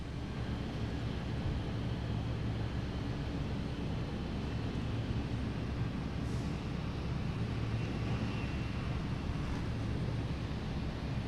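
A Boeing 787 airliner at Boston Logan airport produces a steady, distant engine rumble and roar that stays even for the whole stretch, with light wind noise and no talk.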